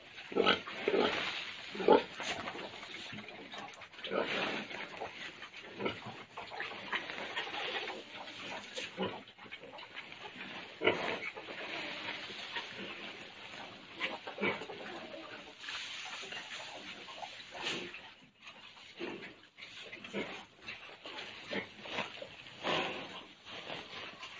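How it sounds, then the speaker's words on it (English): Pigs grunt and squeal around feeding time on a farm, in frequent close bursts over a busy background with clucking birds nearby. Brief human voices come through now and then. "This is a very good size pig."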